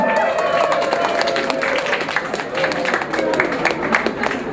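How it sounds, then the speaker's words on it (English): At a business case competition award ceremony, a large audience cheers and claps loudly and continuously, a dense mix of applause and shouting voices. "May I hear some cheer from the floor, please?"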